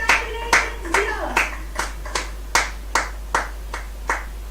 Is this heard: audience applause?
yes